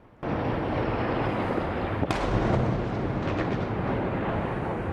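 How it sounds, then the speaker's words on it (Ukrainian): Missile strikes on Kyiv: a deep, powerful roar of blasts and rumbling booms fills the clip, with a sharp crack midway, loud and sustained. "як раптом знову сирена, і за лічені хвилини потужні вибухи"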